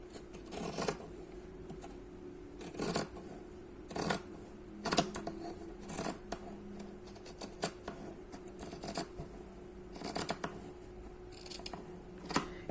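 Fabric scissors snip through two layers of cloth cut together for an anatomical turban-style mask, giving a run of sharp, close, evenly spaced cuts with no talking.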